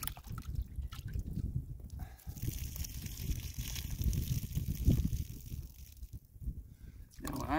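Water sloshes and trickles in a gold pan as it is tilted and rolled while processing crushed hard rock gold ore, a close, continuous wet swirling with soft drips throughout.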